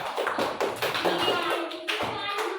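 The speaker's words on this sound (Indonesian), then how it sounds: "Nah, tepuk tangan dulu buat kelompok 3." A classroom gives group 3 a short round of hand clapping, a small group's uneven claps close by, with a voice talking over the applause.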